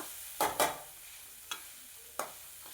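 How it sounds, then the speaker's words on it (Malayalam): Long beans stir-fried in an open pan, a few distinct scraping stirs with a spoon, two close together then two more spaced out, over a faint low sizzle. "എല്ലാം ഇളക്കി അതിൻ്റെ വെള്ളമൊക്കെ നന്നായിട്ട് വറ്റണ വരെ ഒന്ന് ഇളക്കി കൊടുക്കുക."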